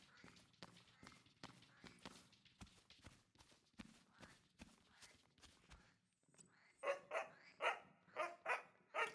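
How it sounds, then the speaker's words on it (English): After a run of rhythmic footsteps, a dog in the video game Bloomtown: A Different Story barks loudly several times in quick succession, close and sharp. "Calm the dog."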